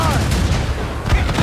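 Ship cannon fire in the video game Assassin's Creed Rogue, a loud, close roar of booming broadside blasts with a heavy low thud near the end, and a voice briefly shouting over the din.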